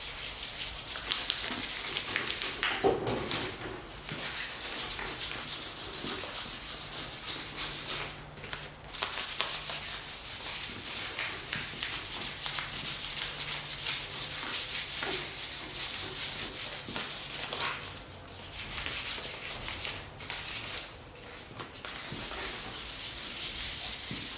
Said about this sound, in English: Grab my sandpaper, and this should help me put the final smoothing on it.